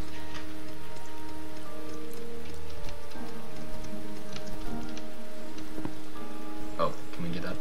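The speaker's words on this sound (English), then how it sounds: "Is it raining? Yeah, it's raining. It's raining acid!" Steady acid rain in the video game Starbound patters densely on surfaces with scattered drips and ticks, over a constant tonal background hum.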